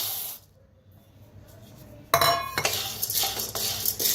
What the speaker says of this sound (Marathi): त्याच्यातच आता ही डाळगा भाजून घेऊया।